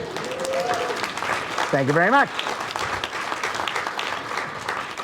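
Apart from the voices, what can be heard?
audience clapping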